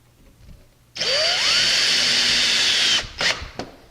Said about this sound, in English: You're going to run your screws in from the back